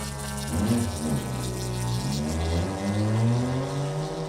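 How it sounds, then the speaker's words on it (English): A race car at the Pertamina 6 Hours endurance event starts up and pulls out of the pit lane, its engine note rising and sweeping steadily over several seconds, loud and close, with no talk. "the number 77 starting their car and exiting the pits"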